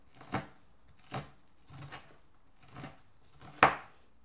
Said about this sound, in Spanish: Así la voy a picar en cuadritos pequeños